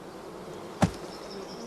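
Honeybees settling into a swarm cluster in a cool, dark spot give off a faint, steady hum, broken by one brief, louder burst of buzzing near the middle.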